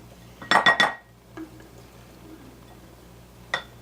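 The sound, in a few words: spoon scooping firm salad dressing out of a jar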